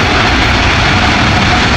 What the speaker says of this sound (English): This comes from the thrust reversers on the engines and spoilers on the wings.